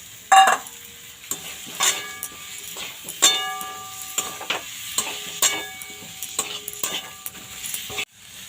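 Boiled small potatoes stirred into a frying spice masala in a pan for a Bengali choto aloor dom, with repeated scraping stirs and soft sizzling, plus light clinks of a utensil against the pan, close and moderately loud.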